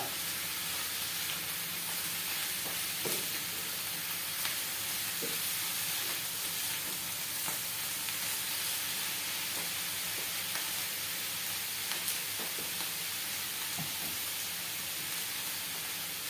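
Beef strips frying and being stirred in a pan for Bisaya paklay, a steady close sizzle running throughout with occasional soft scrapes and clicks of the utensil.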